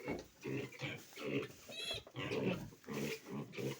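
Piglets grunt in a run of short, soft oinks close by, with a voice talking over them.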